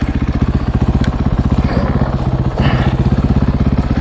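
A 2020 Husqvarna FE501s dirt bike stuck off-road, its single-cylinder engine pulsing in a loud, fast, close rhythm that swells and eases as the throttle works, with no talk over it.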